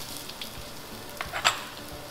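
Garlic, ginger and onions sauté in hot oil with a soft, steady sizzle and a couple of brief louder crackles, fairly quiet throughout.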